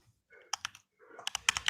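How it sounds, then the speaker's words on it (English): Close-up clatter of fingers typing on a computer keyboard comes in two short bursts of quick, crisp key clicks, with no voices. "I'm just currently typing into comments so that everyone can see."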